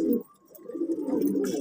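Fighter pigeons kept in Bahawalnagar coo close by in soft, low, throaty rolls, with a brief pause before the cooing picks up again.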